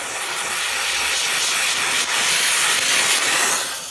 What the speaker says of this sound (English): Then we'll steam it good.